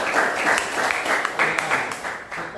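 A classroom group applauds after a student group's presentation, a dense burst of many hands clapping close by, steady and lively throughout with no voices over it.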